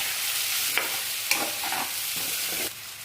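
Potato fry with ginger paste gets stirred in a pan: a steady, close hiss of frying with several brief scraping and clinking strokes from the spoon, and no voices.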